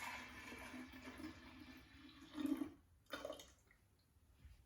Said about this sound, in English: So I'm going to pour this into the jar.